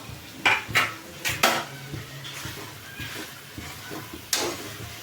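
Vegetables for Gujarati panchkutiyu shaak tipped into a cooking pot, heard as a few sharp clatters and clinks of metal utensils against the pot, with quieter scraping between.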